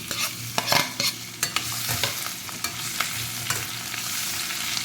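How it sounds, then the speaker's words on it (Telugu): Ivy gourds fry in hot oil in a pan, a constant sizzle broken by sharp scrapes and clacks of a spoon stirring them every second or so, close up and with no voices. "ఇప్పుడు దొండకాయలు వేసుకుందాం."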